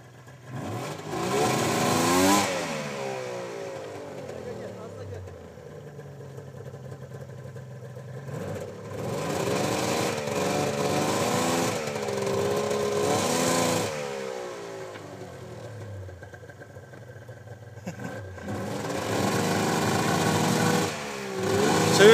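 A snowmobile engine at Sarıçiçek on Muratdağı runs and revs in repeated surges, its pitch rising and falling with throttle, loud and fairly close, with no voices.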